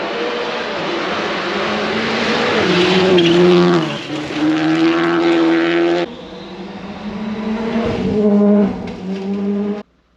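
Rally car tearing through the Balmoral forest stage, a loud, close engine note rising and falling through gear changes with tyre scrabble, then fading abruptly as it passes.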